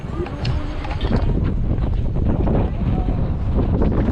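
Steady wind rushing and buffeting against the microphone outdoors, with a continuous low rumble throughout.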